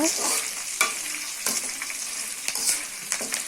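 Garlic and curry leaves fry in hot oil in a pan, crackling and spluttering with sharp irregular pops over a bright, close sizzle.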